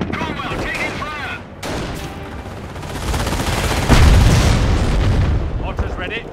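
Company of Heroes battle with dense gunfire, machine-gun bursts and heavy booms building into a loud continuous barrage, with voices shouting over the combat.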